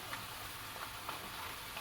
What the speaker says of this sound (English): So try your best to mix everything up or stir it when frying.